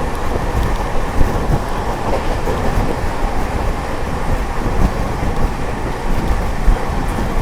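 Amrit Bharat push-pull express train running at high speed past Itarsi, a loud continuous rushing rumble of wheels and wind heard from inside the coach with faint rhythmic rail clatter.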